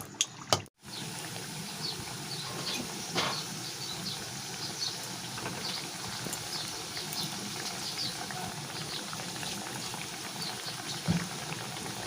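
Chhana jilipi, a Bengali sweet, frying in hot oil: a steady bubbling sizzle runs throughout at moderate level, with a few brief clatters near the start and no talking.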